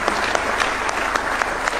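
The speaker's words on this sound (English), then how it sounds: "Another round of applause for His Excellency." Loud, dense audience applause for the Kenyan president at a university launch event, a sustained roar of many hands clapping close by.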